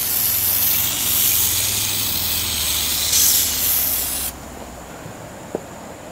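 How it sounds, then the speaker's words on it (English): A loud continuous hiss from an aerosol chemical paint remover sprayed on an RC car hard body, lasting about four seconds, then it stops, leaving quiet with a small tap. "Let me go ahead and spray this."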